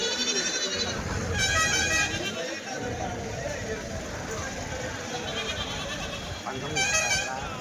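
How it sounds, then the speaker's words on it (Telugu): Billy goats at the weekly Tuesday goat market in Kadiri bleat in a couple of strained, wavering calls, one early and one near the end, amid busy crowd chatter and people talking close by. "ఎంత పెద్ద ఇవి మేకపోతులు?"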